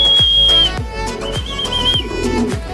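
Racing pigeons returning to their home loft, soft repeated coos and a thin whistling call over a series of sharp knocks and clatter nearby.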